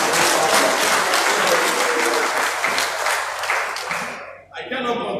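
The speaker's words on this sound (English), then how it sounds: "Please give our father a round of applause." Crowd applause at a campaign rally in Ondo State, loud and sustained clapping from many people that fades after about four seconds into a softer patter, with a voice coming in at the end.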